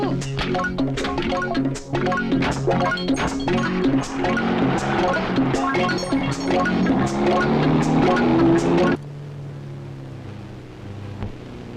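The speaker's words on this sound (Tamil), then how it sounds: "வண்டி எடு" A car in a Tamil film scene revs and pulls away under loud orchestral music, the engine drone and music running together for most of the stretch before cutting to a quieter, steady hum.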